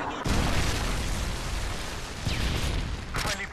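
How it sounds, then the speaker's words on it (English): Heavy explosions and crackling blasts from a Predator missile strike in a first-person shooter game, a loud rumbling impact that stays dense throughout with further sharp bangs near the end. "Friendly Predator missile inbound"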